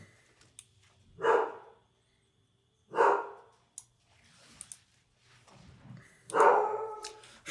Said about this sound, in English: My dog must have saw the mailman.